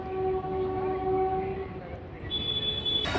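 A train at Durg Junction railway station in Chhattisgarh, India, sounds sustained horn tones over a steady station rumble, with a sharp loud burst at the very end.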